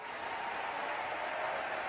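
An audience applauds steadily during a 2012 barbershop chorus championship event in Denver, a dense, even wash of clapping that holds at a constant moderate level throughout, with no voices rising above it.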